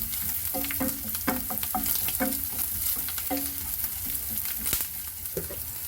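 Potato with garlic paste frying as a spoon stirs it, steady sizzle throughout with quick clustered scrapes and knocks of the utensil against the pan, close and fairly loud, no voices.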